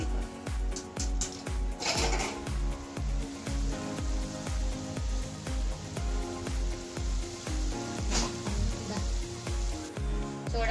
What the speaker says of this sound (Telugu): వేసిన వెంటనే తిప్పొద్దండి. కొంచెం వేగిన తర్వాత తిప్పుకోండి.